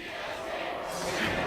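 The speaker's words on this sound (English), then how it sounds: "They really need to hear you guys cheering for them" A live League of Legends esports crowd at an NA LCS Spring 2015 match cheers and shouts as a dense, steady roar of many voices, swelling slightly louder toward the end.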